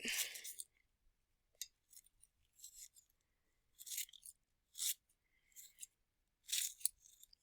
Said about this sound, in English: And then I'm just going to cut them in little pieces just to decorate.